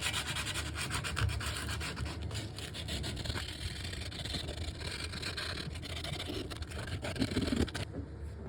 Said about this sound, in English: I use a 180 grit sandpaper to remove the corrosion and rough up the surface